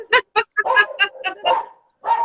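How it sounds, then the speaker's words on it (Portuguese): A dog barks close by in a quick run of sharp, separate barks with short gaps between them, the last bark coming after a brief pause. "um cachorro latindo"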